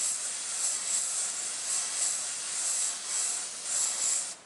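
An airbrush sprays paint through a stencil with a continuous airy hiss that swells gently in soft rhythmic pulses, close and steady with no talking.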